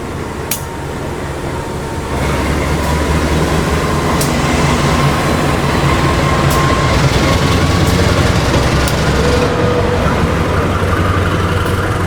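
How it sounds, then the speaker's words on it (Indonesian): The Logawa train locomotive pulls away from Surabaya Gubeng station, a loud continuous engine rumble with steady mechanical roar that swells after the first couple of seconds, heard close up and alone. "lokomotif kereta api Logawa sudah berangkat Surabaya Gubeng ke Depo Sidotopo"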